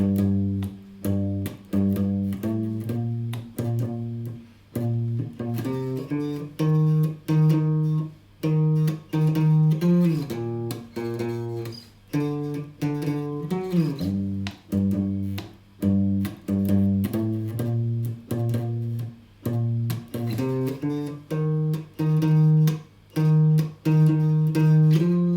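An acoustic guitar plays the chorus of a song as a steady pattern of strummed chords with short gaps and slides between changes, heard alone and close.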